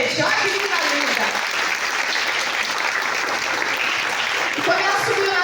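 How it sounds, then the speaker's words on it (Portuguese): Congregation applauding in a church, a steady, dense wash of many hands clapping continuously, fairly loud, with a few voices mixed in. "vamos aplaudir ela, gente"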